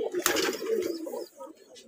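Giribaz pigeons coo inside a pigeon house on a Rajshahi farm, soft low throaty calls rolling close by over a brief rustle.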